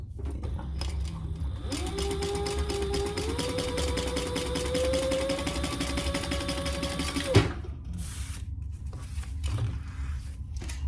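A sewing machine stitches steadily for about six seconds with a humming motor tone and rapid needle clatter, then stops abruptly, leaving quiet room noise.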